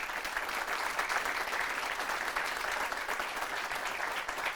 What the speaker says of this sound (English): So if we can give them a round of applause.